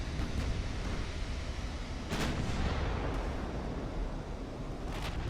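Warship guns firing at destroyers in Ultimate Admiral: Dreadnoughts: a couple of muffled, distant booms rise out of a constant roar of sea and wind noise.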